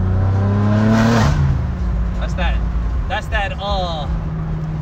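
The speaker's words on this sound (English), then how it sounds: "That's that Valvetronic exhaust." A slammed BMW G80 M3's Valvetronic exhaust roars loudly nearby, revving hard then dropping off, followed by excited voices talking.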